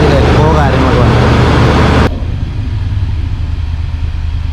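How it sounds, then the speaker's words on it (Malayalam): A 2021 Nissan Patrol Nismo engine running inside a showroom, a loud echoing rumble that drops abruptly halfway to a softer, steady idle, with a voice speaking over it. "ഇതാണ് ഇതിൻ്റെ എൻജിൻ്റെ സൗണ്ട് വരുന്നത്."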